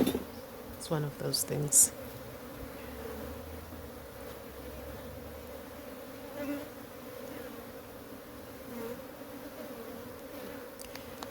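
Honey bees hum in a steady, layered drone around an open beehive, with a few close clicks and knocks of hive work early on and a voice speaking briefly over the buzzing.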